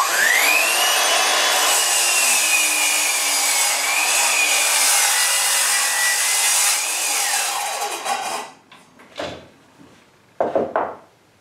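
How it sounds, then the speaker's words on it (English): A Metabo KGS18 LTX 216 cordless 8-1/2" sliding compound miter saw cross-cuts a 2x12 board with a loud, close, sustained high whine of blade through wood, then the motor spins down and a few clunks follow. "here it is cross-cutting a 2x12"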